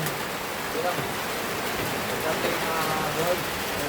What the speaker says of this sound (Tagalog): So lumakas yung ulan mga idol.